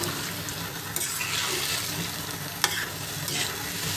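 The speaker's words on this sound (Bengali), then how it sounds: "এবার আমি এর মধ্যে সিদ্ধ করা লাউটাকে এর উপরে ছেড়ে দিচ্ছি" Boiled bottle gourd stirred into fried onion, chili and garlic in a pan, a busy close sizzle with scraping spatula strokes and one sharp clack, continuous and without speech.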